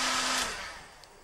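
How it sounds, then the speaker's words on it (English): A heat gun blows steadily while it softens stickers on a helmet, a loud close whooshing drone that fades somewhat toward the end, with no voices. "just hit it with a heat gun or a hairdryer"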